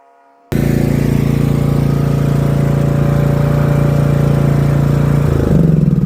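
Lawn mower engine trimming grass on a home lawn, starting abruptly and running loud and close with a steady droning hum, the pitch shifting slightly near the end.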